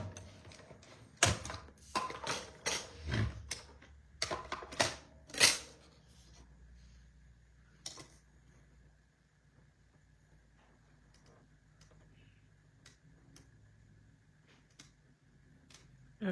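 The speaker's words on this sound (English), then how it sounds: "So let's bring in our cutting machine." A die cutting machine cutting through cardstock for handmade cards, a series of sharp clacks and ratcheting clicks over the first six seconds, then a lone click and quiet room tone.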